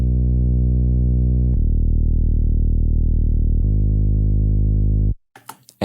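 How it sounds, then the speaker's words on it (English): A TAL-BassLine synthesizer on a soft bass preset with no morph filter plays three deep sustained bass notes, loud and buzzy, and then cuts off abruptly into a few brief faint noises. "I use this instrument, the TAL bassline, which I absolutely love."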